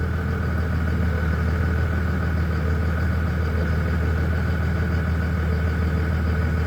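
A 2002 second-generation Cummins diesel pickup, two-wheel drive, idles with a steady, loud, low rumble and an even clatter that holds constant from start to finish, with no talk over it.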